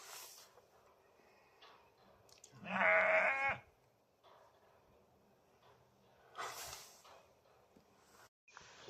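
A sheep on a muddy marsh farm gives one loud, close bleat, followed by a fainter answering bleat a few seconds later over quiet outdoor background.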